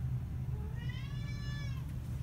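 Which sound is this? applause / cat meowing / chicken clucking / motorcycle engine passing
cat meowing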